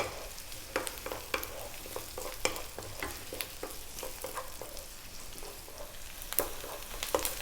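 Onion stir-frying with tofu and Chinese cabbage in a pan with garlic and ginger, a constant sizzle broken by repeated sharp utensil clacks and scrapes against the pan, close and fairly loud, with no voices.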